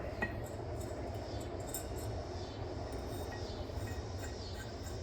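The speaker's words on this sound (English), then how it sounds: "There's a train in the background right now." A train rumbles by in the background, a steady low rolling roar with faint metallic rattles and squeals, distant and fairly quiet throughout.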